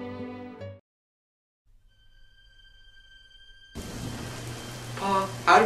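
A rainstorm sets in: after a snatch of music and a near-silent pause with a faint tone, a dense wash of rain starts abruptly and keeps pattering steadily, swelling toward the end.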